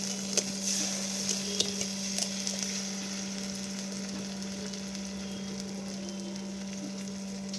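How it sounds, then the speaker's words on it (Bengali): Three eggs cracked into a pan of thickened spiced sauce bring a few sharp clicks early on, over a constant low sizzle that carries on alone. "এই জায়গাটাতে আমি তিনখানা ডিম ফাটিয়ে দিয়ে দেবো"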